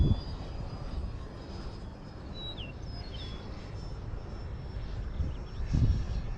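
A Freewing Eurofighter 90mm RC jet flies overhead with a thin, steady electric-fan whine that rises and bends slightly as it passes, fairly distant over outdoor rumble and wind.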